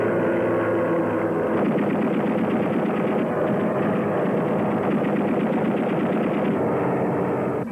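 Sustained rapid automatic gunfire in an action adventure film trailer, loud and dense bursts running almost without pause, mixed with rumbling engine-like noise.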